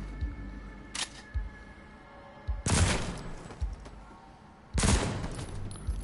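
Gunfire in The Walking Dead Onslaught video game: a few sharp shots, then two heavier bursts of rapid fire with noisy tails over a low hum.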